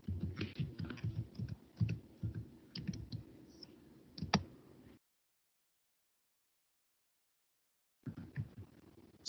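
Computer keyboard typing in a search field, rapid irregular clacking bursts for several seconds, a silent gap, then more keystrokes resuming near the end.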